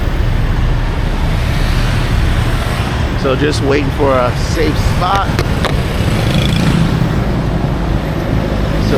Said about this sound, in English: You got traffic coming this way with buses and cars, traffic coming from the front of us